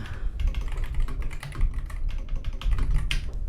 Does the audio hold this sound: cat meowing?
no